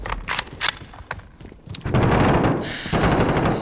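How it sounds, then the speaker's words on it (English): A fully automatic assault weapon in a video game fires a few quick shots, then breaks into long, loud, sustained bursts of rapid gunfire, close and continuous with only a brief pause between them. "Okay, now it's fully automatic."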